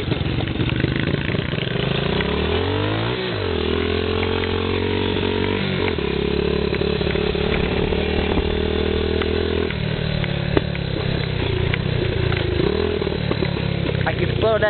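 Dirt bike engine revving hard while riding, with repeated pitch drops and jumps as it downshifts through the gears, loud and close throughout with no talk.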